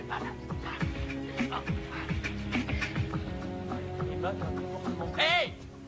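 A dog whimpers and yelps in repeated short, high cries, close by, with voices speaking over and between them.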